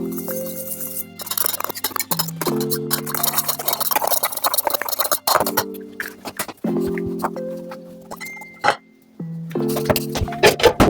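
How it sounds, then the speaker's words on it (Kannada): A spiced egg-style mixture with salt and chili being beaten in a bowl, rapid irregular clinking and tapping strokes in bursts with short pauses, close and fairly loud. "ಇವಾಗ ಇದನ್ನ ಬೀಟ್ ಮಾಡೋಣ."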